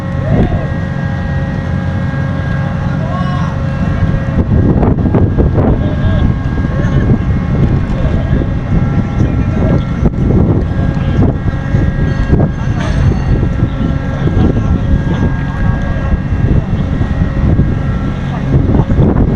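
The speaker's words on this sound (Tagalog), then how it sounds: "magalaw yung barko" A ship pitches and rolls through big waves off Romblon, with steady wind roar buffeting the microphone and the low engine rumble running throughout, loud and continuous, while a voice speaks briefly over it.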